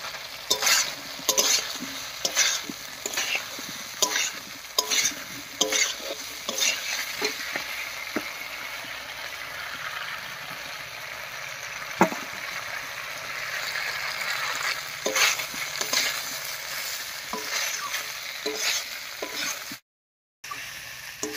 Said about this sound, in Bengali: এবারে ভেজে রাখা ফুলকপি আর চালটা দেবো।